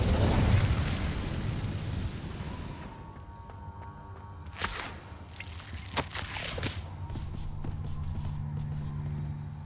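The Incendio fire spell from Hogwarts Legacy erupts as a loud rushing whoosh and rumble near the start, followed by scattered sharp pops, thuds and chiming magical effects as the noise settles.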